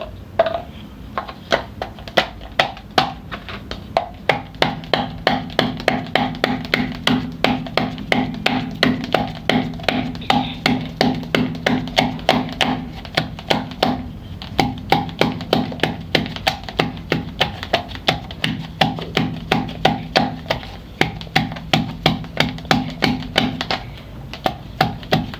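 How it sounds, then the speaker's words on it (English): Repeated pounding of ginger and garlic with a rolling pin in a container in a home kitchen, steady rhythmic thuds close up with no speech. "we are going to crush the ginger and the garlic."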